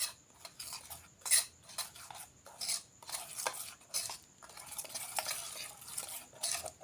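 Flour dough mixed with oil is stirred by hand in a bowl, producing quiet, irregular scraping and soft clinking strokes close by, with no voices.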